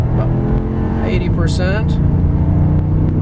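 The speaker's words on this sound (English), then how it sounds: "we're gonna do a 0 to 60 pull going up this hill with the air conditioning blasting" A 1998 Cadillac DeVille pulls hard from 0 to 60 up a hill with the air conditioning blasting, its engine rising in pitch as it revs, with someone talking over it.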